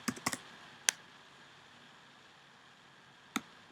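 A few light keystrokes on a computer keyboard, a quick cluster of clicks followed by isolated taps after a pause, faint and close with no talking.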